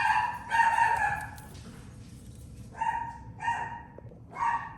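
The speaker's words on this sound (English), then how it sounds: "She's at the window barking at people pass by, and she's getting Kirby all riled up." A pet dog at a house window barks repeatedly at people passing by, sharp bursts in short groups with pauses, fairly close and moderately loud, with low household rumble underneath.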